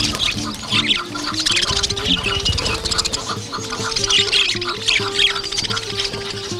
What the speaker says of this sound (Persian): فقط این پرنده هستن و خوشخوانی میکنن